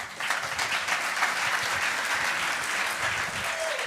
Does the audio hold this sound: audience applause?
yes